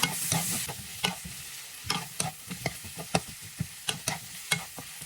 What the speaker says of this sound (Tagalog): lagyan natin yung ating sayote. Ayan. Gisa.